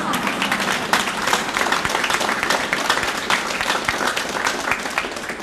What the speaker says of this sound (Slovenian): Najprej bi prosil naše pevce, da zaploskajo čudovito občinstvu